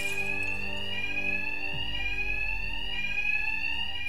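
Loud alarms ring in Batman: Arkham Knight, a steady, piercing electronic tone repeating without pause, with no talking.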